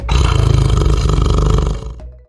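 A tiger roars once in a loud, deep, rough, sustained burst lasting about two seconds, with a rapid throaty pulsing texture before it trails off abruptly.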